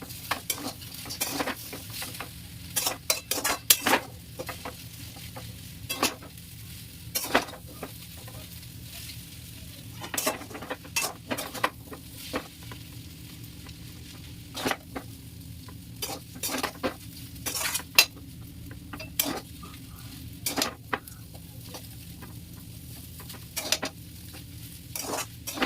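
Egg pasta with pasta masala being stirred in a pan, a spoon scraping and clinking against the metal in steady repeated strokes over a soft continuous sizzle, close and alone with no talking.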